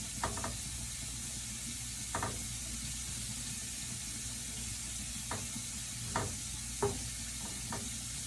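Oil and butter whisked in a pot for chicken soup, a soft steady stir under a constant broad hiss, with a few faint scattered clicks of the whisk against the pot and no talk.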